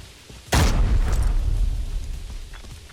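A single loud grenade explosion in the video game Arena Breakout booms suddenly, its deep rumble rolling on and slowly fading over the next couple of seconds.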